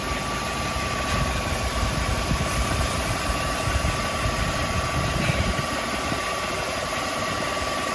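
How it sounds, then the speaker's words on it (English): A Jaguar S-type air-conditioning compressor runs with a steady, fairly quiet mechanical hum and faint rapid knocking, continuous and unchanging throughout. "as you can see, my compressor is running"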